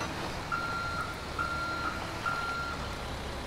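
A heavy wrecker tow truck in GTA 5 backs up, sounding four evenly spaced reversing beeps over a low engine rumble, moderately loud and with no talking.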